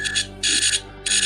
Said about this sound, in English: That's my alarm to end the stream,